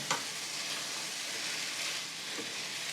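Chicken quesadilla filling cooks in about two tablespoons of melted butter in a pan, producing a steady, close, even sizzle with a faint clack of stirring near the start.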